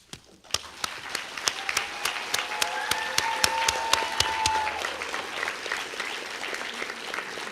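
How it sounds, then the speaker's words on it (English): At a high school senior awards ceremony, an audience claps steadily and fairly distantly, with one person's sharp, evenly spaced claps standing out close by above the wash of applause. "I want to take this moment for everybody to get one last round of applause"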